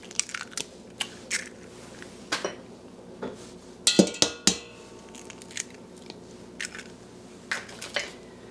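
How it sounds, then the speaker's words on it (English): Eggs go one at a time into sourdough brioche dough in a bowl, giving a string of close, sharp cracks, wet squishes and clinks against the bowl, spaced irregularly with quiet gaps between them and no talking. "And now we'll add the eggs"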